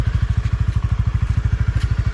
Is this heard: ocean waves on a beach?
no